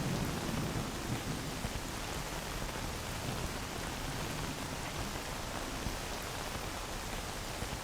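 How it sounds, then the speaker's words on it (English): Heavy, steady rain pours down in a dense roar in the video game STALKER, with low thunder rumbling beneath it throughout; no voices. "it's like torrential right now"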